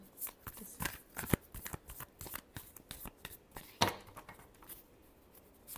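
Tarot cards being shuffled by hand, close and fairly quiet, with a quick run of riffling flicks and one sharper snap near the end.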